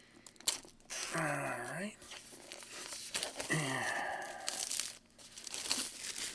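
A Black Sabbath singles box set gets opened and unwrapped, with crinkling and tearing packaging up close, and a voice briefly speaks over it.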